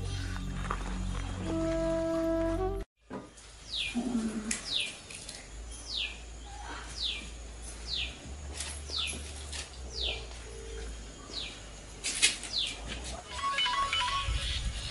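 A phone ringtone plays a short melodic tune close up, then cuts out; afterward birds chirp repeatedly in a steady outdoor background.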